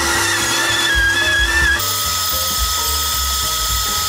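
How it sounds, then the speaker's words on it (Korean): A power saw fitted with a non-ferrous metal blade rip-cuts a large piece of timber, giving a loud, steady whining drone that shifts pitch partway through as the blade bites into the wood, with no talking. "이번에는 좀 커다란 목재를 한번 켜보도록 할게요"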